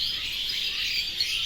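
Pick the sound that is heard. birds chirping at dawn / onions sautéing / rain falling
birds chirping at dawn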